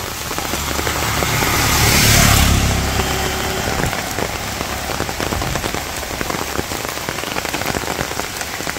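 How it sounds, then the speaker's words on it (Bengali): Steady rain patters on surfaces and leaves in a village on a rainy day, a dense continuous hiss that swells briefly louder early on before settling into an even downpour with no talking. "বৃষ্টি কিন্তু হইতেছে।"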